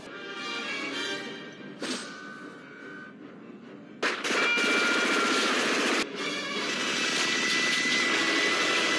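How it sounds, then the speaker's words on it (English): Sustained automatic gunfire roars from the 1987 film Predator, a dense, loud barrage that swells after a quieter opening and keeps going to the end. "don't waste all your ammo. You don't even know what you're shooting at."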